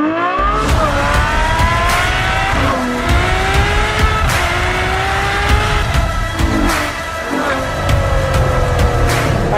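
A Ferrari Superfast drives hard, its engine rising and falling through gear changes with repeated upshifts, loud and close throughout.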